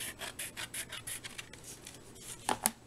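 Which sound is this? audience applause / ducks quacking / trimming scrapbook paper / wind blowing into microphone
trimming scrapbook paper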